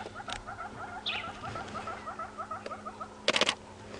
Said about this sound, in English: if you guys hear those clicks, that's just me taking a few photographs